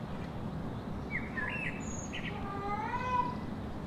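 A cat named Inky, a lazy pet cat, gives a few brief high chirping meows over a steady background hiss, moderately close and alone without talk.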